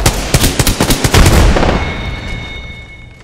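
A frag grenade detonates in Apex Legends: a few quick gunshot-like pops lead into a single heavy blast that rolls away in a long fading rumble, with faint electronic tones lingering afterward.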